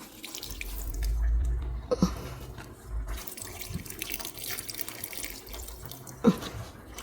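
Tap water running into a sink while rice is washed, a soft continuous splashing and trickling with a couple of louder sloshes, close by and without talk.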